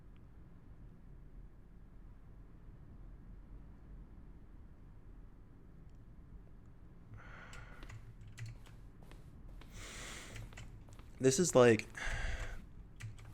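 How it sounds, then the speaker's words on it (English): Keyboard-stroke button sounds from The Stanley Parable, each mixed with a synthesized tone, come as a short cluster of clicks late on after quiet background and brief talk. "A selection of each sound is a mix of a keyboard stroke and a synthesized tone"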